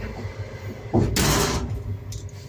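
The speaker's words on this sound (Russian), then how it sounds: "И дверь в обе стороны." A sliding compartment door on a passenger train rolls and thuds shut, a short loud burst over the steady hum of the moving carriage.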